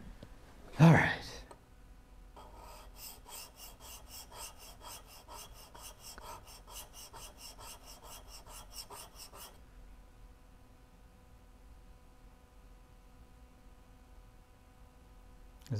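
A wood chisel bevel is sharpened for the first time, with quick, even rasping strokes rubbed back and forth on a sharpening surface. The strokes run steadily for several seconds after a single louder scrape, close and clear.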